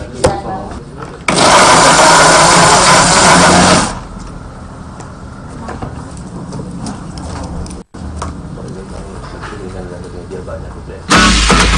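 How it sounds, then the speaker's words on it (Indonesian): An electric blender grinds shrimp with garlic and salt in a loud, close whir that runs for a couple of seconds, drops to a quieter rattling churn, then surges back at the end. "lalu di blender dengan tambahan garam dan dicampur dengan udangnya"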